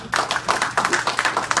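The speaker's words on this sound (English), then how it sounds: "You all deserve a round of applause." A small audience at a motivational talk claps, a handful of distinct, rhythmic hand claps close by, sounding more like a few people than a large crowd.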